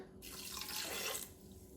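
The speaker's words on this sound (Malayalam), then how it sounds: "ഈ ഒരു ഗ്ലാസ്സിൽ ഒന്നര ഗ്ലാസ് വെള്ളമാണ് ഞാൻ ചേർത്ത് കൊടുക്കുന്നത്" A short burst of water pouring into a pressure cooker with chicken and chana dal, rising then cutting off after about a second, close and clear with no talking.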